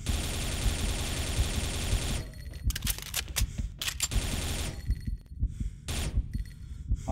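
Gunfire in the video game XSHOT as a magazine is sprayed empty: a long stretch of rapid automatic fire, then several shorter sharp bursts separated by brief quiet gaps.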